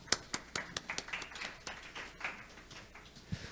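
Conference audience clapping for the session chair from the Busan Port Authority, a small group of sharp, fairly close hand claps that thin out and fade over a few seconds.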